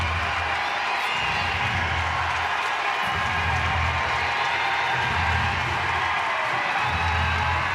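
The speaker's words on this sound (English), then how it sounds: "they will get a huge ovation as they emerge into the sunshine" Rugby crowd at the Dexcom Stadium cheers and applauds as the teams come out into the sunshine for an Ireland v Italy Women's Six Nations match. The roar is steady, dense and unbroken, close and full throughout.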